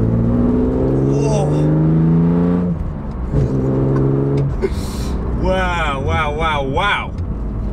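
A 2006 BMW Z4 M Coupe's engine revs while driving, loud and close, rising and falling in pitch with strong harmonic bands, with someone talking and exclaiming over parts of it.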